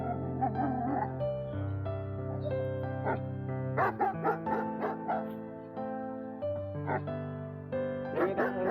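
A puppy meets another dog, giving excited yips, short barks and whimpers that come in bursts over a steady tonal background hum, with people talking now and then.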